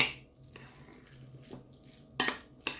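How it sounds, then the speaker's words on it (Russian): Sprats, chopped eggs and corn being stirred together in a bowl for a simple sprat salad, with a few sharp utensil clinks against the dish standing out over quieter scraping and mixing. "Сюда же добавляем кукурузу. Все это перемешиваем."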